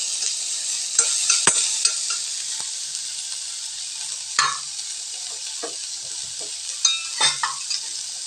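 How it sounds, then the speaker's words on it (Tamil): Ingredients sauté in a hot pan for egg paniyaram, a steady soft sizzle broken by several distinct scraping stirs of a spoon against the pan. "இதை வதக்கி விட்டுக்கலாங்க."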